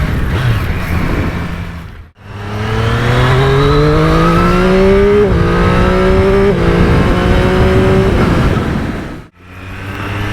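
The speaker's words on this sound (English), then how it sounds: "you have to listen to the engine note" Triumph Street Triple RS motorcycle engine revving loud and close, pitch climbing through several quick-shifted gears in steady rising sweeps, with brief drops between shifts and a short pause near the start and end.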